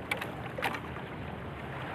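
A small boat heading out to open sea for a day's fishing, with a steady broadband rush of water and wind noise on the microphone throughout, near and continuous, with a couple of brief knocks early on.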